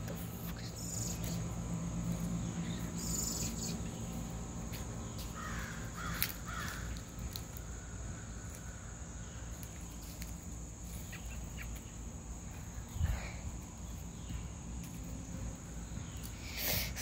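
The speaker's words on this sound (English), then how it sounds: "So I'm gonna celebrate with naming one of those birds Morambi." Crows caw now and then outdoors over a steady, high chirring of crickets, all fairly quiet and distant with no talking.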